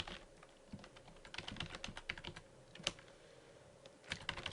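Fingers typing a password on a computer keyboard, a quiet, uneven run of close key clicks with a few louder taps, soft and continuous with no talk.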